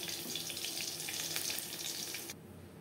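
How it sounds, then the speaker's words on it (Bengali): Pointed gourd (potol) pieces frying in oil over a medium flame for Bengali tel potol, a steady close sizzle that runs evenly for a few seconds and then drops off suddenly near the end, with no voices. "হাই ফ্লেমে তেল গরম করে নেওয়ার পর পটলগুলো আমি ভাজবো মিডিয়াম ফ্লেমে।"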